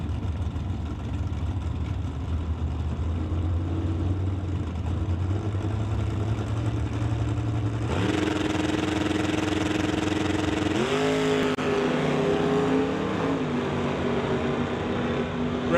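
Drag racing cars launch at a hot rod meet, an out-of-time Chevrolet Nova against the Winged Behemoth: a loud droning engine builds, then sharp revving roars surge in near 8 and 11 seconds as the cars accelerate away.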